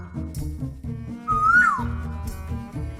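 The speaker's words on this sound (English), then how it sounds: "you might recognize sounds of the koel bird." A koel bird's call, a single rising-then-falling whistled note near the middle, heard over busy layered music.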